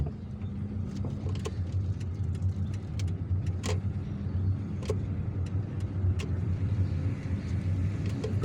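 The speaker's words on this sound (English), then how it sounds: "Got to overtake this patrol car." A car drives through traffic in the streets of Algiers, a continuous low road rumble with engine drone and scattered clicks and knocks, steady and close.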